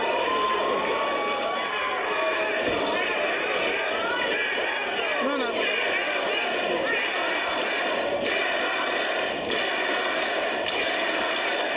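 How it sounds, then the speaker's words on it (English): A wrestling crowd at a live indie show rallies loudly behind a wrestler, steady dense chatter and cheering filling the arena throughout, with occasional thuds from the ring and commentary voices mixed in. "You can listen to this crowd firmly behind Danhausen."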